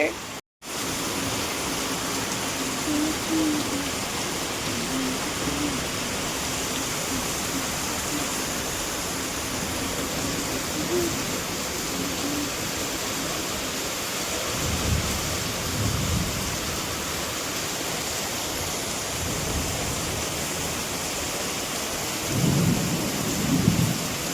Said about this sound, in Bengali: পড়তে পড়তে এখন দেখি বৃষ্টি পড়ছে।